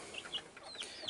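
Hens eating dry feed, with short high clucks and chirps popping out several times over a second against faint background noise.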